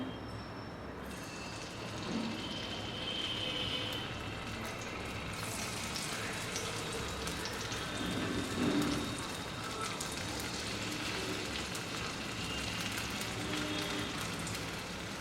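Cornflour-coated paneer fries in oil in a nonstick pan, giving a steady, even crackling sizzle like light rain that runs throughout at moderate volume, with no voices.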